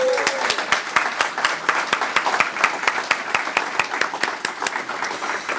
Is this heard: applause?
yes